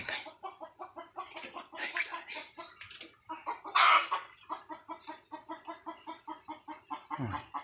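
Chickens cluck in a steady, repeated rhythm close by on a Thai farm, with a sharper louder squawk partway through and a brief low rumble near the end; no one talks.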